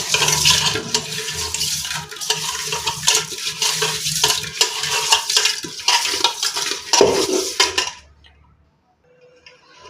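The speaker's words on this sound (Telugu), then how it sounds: "కొద్దిగా ఉప్పు వేసుకొని మొత్తం అంతా బాగా కడుక్కోవాలి ఇలా మొత్తం అంతా బాగా ఇలా కలుపుకోవాలి" Raw prawns are washed by hand in salted water in a bowl, with sloshing, swirling and wet clinks for about eight seconds before the sound stops abruptly into near silence.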